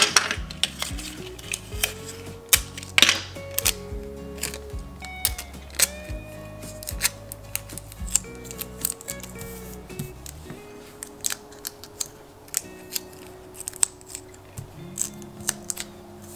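Paper is punched and cut out for a paper plant pot, producing a string of sharp clicks, snips and crisp taps at close range, with scattered paper rustling between them and no talking.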